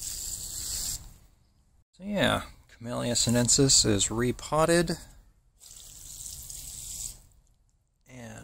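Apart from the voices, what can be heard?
watering repotted tea plant in coconut coir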